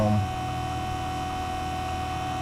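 A vacuum pump hooked to a home AC system runs with a steady, continuous mains-like hum, close and unchanging throughout.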